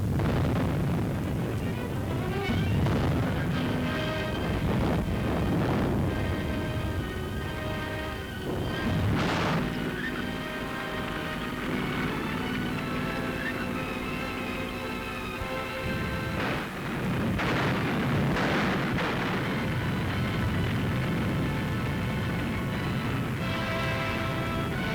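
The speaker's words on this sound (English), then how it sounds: "The Germans' own guns, captured, were now turned against them." Captured German artillery guns fire in a wartime newsreel, with heavy booms and rumbling blasts repeating through a dense, loud soundscape alongside a steady orchestral-like backdrop.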